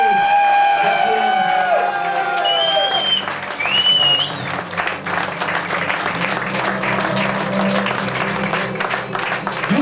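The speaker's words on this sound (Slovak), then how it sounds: "Jeden veľký, velikánsky aplauz pre svadobné mamičky." Wedding guests applaud the mothers of the bride and groom, a sustained, steady roar of many hands clapping that fills the room, with a voice talking over the start and brief cheering mixed in.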